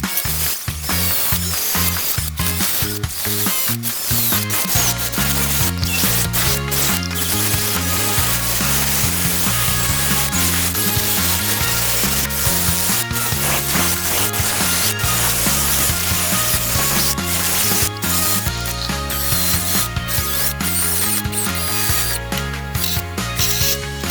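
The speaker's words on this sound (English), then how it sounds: "So I'm going to be taking off the seam sealer right here above the screws." Seam sealer is scraped off the support frame above the strut tower screws of a crashed BMW X5 M50i. The scraping is loud, close and continuous, a rapid back-and-forth rasping rhythm with no talk.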